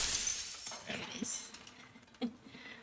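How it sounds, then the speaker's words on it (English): Glass cracking and shattering in the video game Slay the Princess: a loud burst of breaking at the start, then scattered brittle clinks and tinkles trailing off, with a second sharp crack near the end. "loud ass, crackling glass sound"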